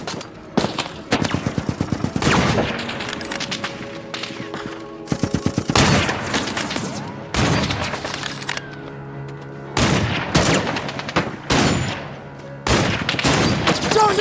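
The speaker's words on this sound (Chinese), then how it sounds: "六杆狙击枪枪枪致命，弹无虚发，很快索马里的火力点就被打了下去" Heavy gunfire from a film battle scene in which French snipers fight Somali forces near a school bus: repeated loud bursts and volleys of shots come in clusters, with rapid rattling stretches and booming reports between them.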